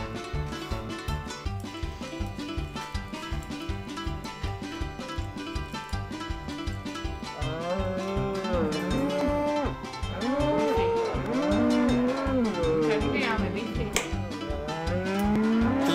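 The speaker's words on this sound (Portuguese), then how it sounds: "Eu acho que você ganhou as vacas" Cows mooing in the El Chavo Wii video game, repeated drawn-out moos over a rhythmic game music loop, growing louder and more frequent in the second half.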